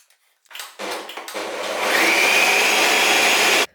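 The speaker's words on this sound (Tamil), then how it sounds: "நான் வந்து ஃபுட் ப்ராசஸரில் போட்டு இது நல்லா வந்து கிரைண்ட் பண்ண போகிறேன்." A food processor whirs to life in short bursts, then grinds steadily at full speed for a couple of seconds before cutting off abruptly.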